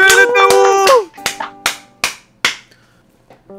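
A quick round of clapping in a Minecraft roleplay, a handful of separate claps spaced apart right after a short burst of excited voices, then trailing off into quiet.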